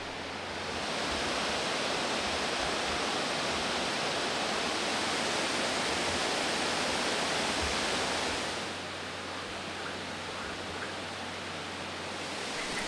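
Famous waterfalls in a national park rush in a steady broadband roar, loud and continuous, easing slightly in the last few seconds with no voices.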